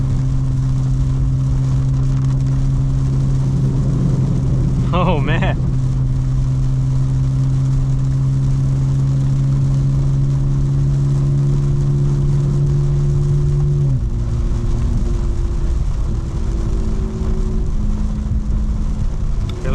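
A fully modified 2025 BMW M4 Competition drives through heavy rain, its engine a steady drone with a brief surge midway under the hiss of rain and road spray. A voice speaks briefly.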